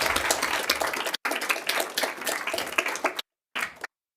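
An audience claps at a council grants subcommittee meeting. The applause is steady and dense for about three seconds, breaks off, then returns in a short final burst.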